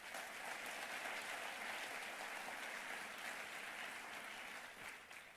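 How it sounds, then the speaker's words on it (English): An audience at a conference applauds in a dense, even wash of clapping that holds steady for about five seconds before tapering slightly at the end. "let's give them a round of applause"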